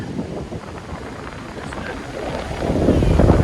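An icy wind blows outdoors on a sunny day, buffeting the microphone with a continuous rough rumble and hiss that grows stronger toward the end.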